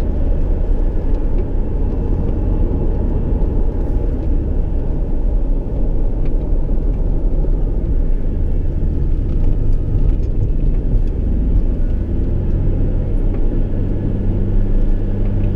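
A car engine while driving, heard as a steady low rumble of the motor and road noise inside the vehicle, loud and constant throughout without talk.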